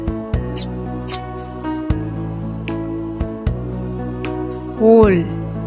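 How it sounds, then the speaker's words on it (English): A short, high cartoon-style mouse squeak rising and falling, heard near the end of a children's lesson about animals over light background music. "Mouse."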